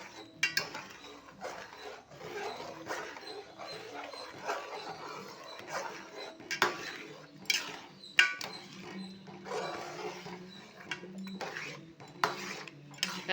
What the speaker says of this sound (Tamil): நம்ம ரவாவை போட்டு கை விடாமல் கிண்டிப்போம்.